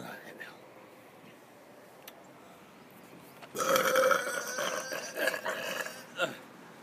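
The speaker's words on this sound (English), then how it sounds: "I know you want to see a really big burp." A person forcing out a long, loud burp that rumbles on for about three seconds, with a few shorter belching bursts trailing after it, following a quiet stretch with faint breathing.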